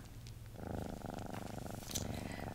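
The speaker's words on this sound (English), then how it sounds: "I'm just here petting my cat." A cat purrs steadily while being petted, a soft close rhythmic rumble that starts faintly and swells after a moment, continuing alone without talking.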